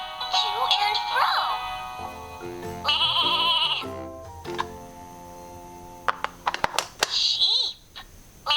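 A toy farm animal puzzle plays a sheep bleat, a wavering electronic baa heard clearly among short clicks and ticks and other toy sounds, with no talking over it.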